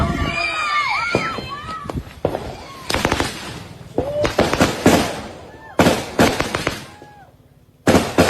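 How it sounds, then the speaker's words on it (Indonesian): Firecrackers go off in sharp, loud bursts and crackling volleys, separated by short gaps, with whistling rockets and a voice or two audible in between. "Ini petasan kali ya."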